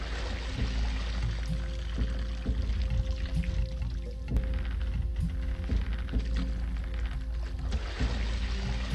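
Water poured from buckets into a lock in an Egyptian-themed building game, a steady continuous gushing wash with low rumble that holds at a fairly even level throughout.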